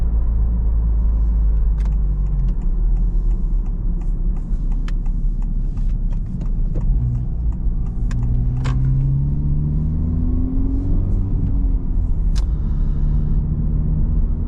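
A Honda FL5 Civic Type R engine drones steadily while driving gently, with loud low rumble, road and tyre noise throughout and a rising tone as it accelerates.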